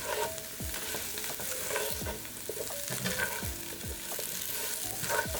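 Potatoes frying in bacon grease with garlic powder, a steady close sizzle broken by repeated scraping and stirring strokes of a utensil against the pan, with no one speaking.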